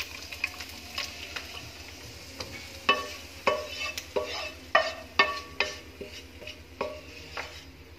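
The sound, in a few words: pouring fried almonds, cardamom, fennel mixture, sizzling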